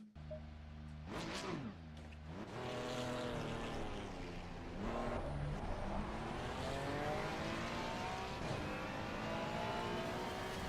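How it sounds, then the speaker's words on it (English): A Ferrari's engine roars loudly and steadily for several seconds, with rising and falling harmonic tones as the car passes close by. "Okay, it's a Ferrari, all right. Definitely a Ferrari."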